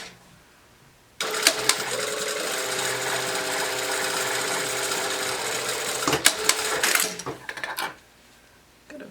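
Sewing machine stitching 1.5 inch red ribbon trim along the edge of a pocket band, a steady loud whirring run of about six seconds that starts abruptly, then ends in a few short bursts and clicks.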